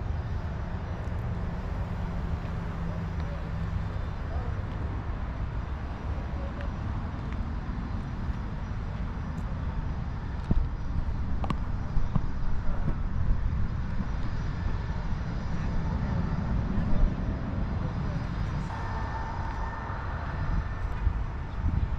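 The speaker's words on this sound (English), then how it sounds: "Behind it, you can hear and see Burke Lakefront Airport, which is located right on the shores of Lake Erie." An airplane at Burke Lakefront Airport on the Lake Erie shore produces a steady, loud engine drone that persists throughout with no talking.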